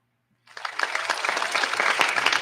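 Applause starts abruptly after a short silence and swells into a dense, steady clapping from a crowd.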